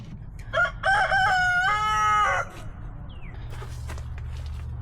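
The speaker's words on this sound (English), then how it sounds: "There's broody hen number 1, a silky." A silkie rooster crows once, loud and close, in a long wavering call over a steady low farmyard hum, with quieter rustling and a brief chirp afterward.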